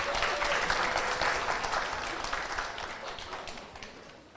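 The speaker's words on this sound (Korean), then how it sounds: "선생님들 앞으로 나와주시고 박수로 맞아주시기 바랍니다" A live podcast audience applauds as speakers come to the front, a dense, sustained round of clapping that starts strong and slowly tapers off.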